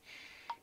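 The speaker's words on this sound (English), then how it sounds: "Oh, shut up, phone." A phone notification: two short electronic tones close together near the end, heard faintly after a soft breathy hiss, with no talk.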